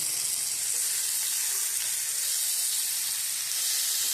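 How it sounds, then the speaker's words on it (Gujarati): Curry leaves sizzle in hot oil while a chutney is tempered, a dense continuous hiss and crackle held close and fairly loud throughout, with no voices. "અને હવે આપણે એમાં થોડા કડી પત્તા નાખીશું।"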